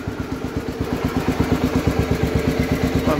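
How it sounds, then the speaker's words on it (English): A Gravely 814 tractor, left outside for years, runs with a steady, rapid chugging single-cylinder beat, close and loud, holding an even idle without talk. "I'm thrilled that the engine runs as good as it does."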